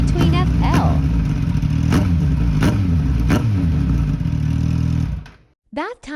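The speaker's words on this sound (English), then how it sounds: "Let's run engine for 3 minutes" A Suzuki GSX-S1000 motorcycle engine idles steadily and loud after a fresh oil change, a constant low rumble with a few sharp blips, then cuts out near the end before a brief burst of sound returns.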